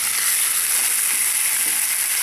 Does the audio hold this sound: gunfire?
no